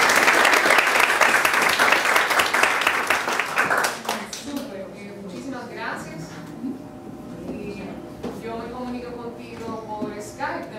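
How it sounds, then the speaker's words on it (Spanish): An audience at a talk event applauds with dense, loud clapping for several seconds that then thins out and fades, followed by a speaking voice. "Juanjo, un aplauso."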